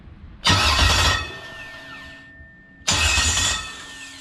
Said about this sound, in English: Let it crank over.